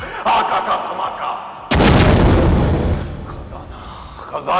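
A sudden, loud explosion blast from a Hindi fantasy film about a serpent woman, hitting at once with a dense burst and then a long rumbling tail that slowly fades, after a stretch of quieter background sound.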